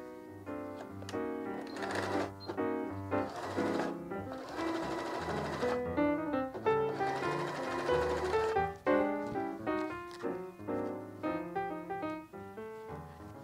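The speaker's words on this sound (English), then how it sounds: "we'll sew with a 3/8 of an inch seam allowance" A sewing machine runs steadily for a long stretch, stitching a fabric seam with a 3/8-inch allowance for a scrappy zipper pouch, close and continuous with rhythmic mechanical chatter and no talking.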